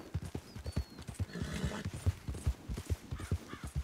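Horse hooves clip-clop at a brisk, steady gait in Red Dead Redemption 2, the thuds close and distinct, with faint game ambience beneath.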